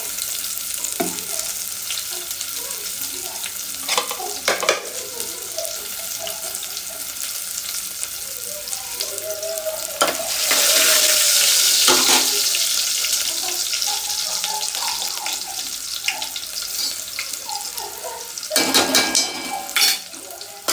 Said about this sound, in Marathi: कांदा भाजून झाला माझा